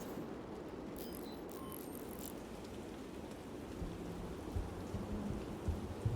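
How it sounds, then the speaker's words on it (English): Steady rain falls in the video game Heart of the Machine, a dense, even wash of patter that runs the whole time, with faint low rumbles near the end. "It's raining."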